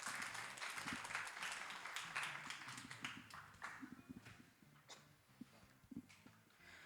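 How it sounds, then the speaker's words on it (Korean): Faint applause from a high school youth worship congregation in a church, clapping that starts fuller and tapers into scattered, uneven claps, with low rumbling room noise beneath. "세린이 나올 때도 격려의 박수 뜨겁게 한번 부탁드릴게요"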